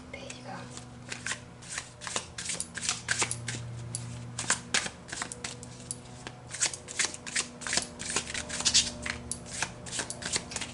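A tarot deck is moved and shuffled by hand in repeated crisp riffling bursts, close and fairly quiet, with a low steady hum underneath.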